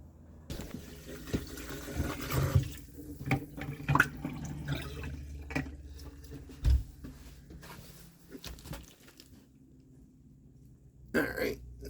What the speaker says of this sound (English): So let's go ahead and turn the water pump on. Hopefully, yeah, we got water.